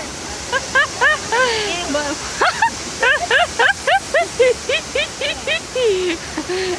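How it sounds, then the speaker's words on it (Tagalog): The Dathun waterfall in Yangmingshan National Park, Taiwan, gives a steady broadband rush of falling water. Lively voices carry on close by over the constant roar. "This is the Dathun waterfalls at Deselje."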